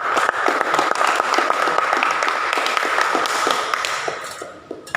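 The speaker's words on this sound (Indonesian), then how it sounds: "Tepuk tangan untuk kita semuanya." A classroom of vocational high school students clapping together, a dense run of quick hand claps that holds steady and then thins out toward the end.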